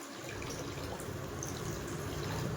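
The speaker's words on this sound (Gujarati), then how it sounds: "જો પાણી નાખી દીધું" Water pours into mango pulp in a steady, continuous stream with a full splashing gurgle, close by and with no one speaking.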